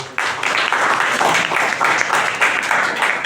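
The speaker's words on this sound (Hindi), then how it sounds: "इस बच्चे के लिए ताली बजा दो" A class of students claps for a classmate, a dense, steady patter of many hands filling the room for about three seconds at close range.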